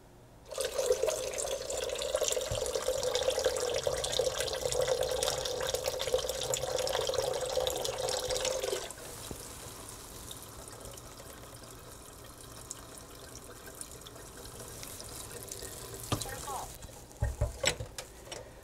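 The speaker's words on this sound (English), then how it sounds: "I put in 3 cups of water." Three cups of water pour steadily into a container of skinned almonds for homemade almond milk, making a continuous splashing rush for about nine seconds. Quieter handling noises and a few clinks follow.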